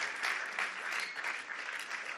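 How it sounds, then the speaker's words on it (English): A crowd claps enthusiastically, a dense, sustained wash of applause from many hands at an even loudness throughout. "let's give these guys a massive round of applause"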